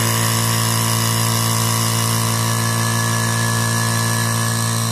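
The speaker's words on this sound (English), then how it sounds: "Surprisingly fast recovery time for as small of a compressor as it is." A small oil-free Vevor air compressor runs continuously nearby, a steady loud motor drone with a constant tonal hum and no change in rhythm.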